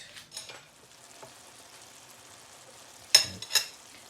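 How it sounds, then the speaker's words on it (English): Pumpkin and sweet potato subji stirred in a pan, soft faint sizzling with a few light scrapes, then two louder spatula scrapes near the end. "give it a stir and let it all the moisture get absorbed"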